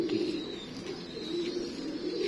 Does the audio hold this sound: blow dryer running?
no